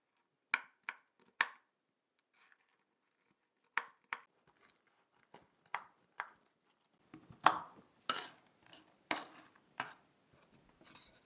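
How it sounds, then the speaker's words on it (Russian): Knife chopping 100 grams of nuts on a board, with sharp close taps in short clusters and pauses, then a quicker, denser run of cuts toward the end. "Далее измельчаю 100 грамм орехов."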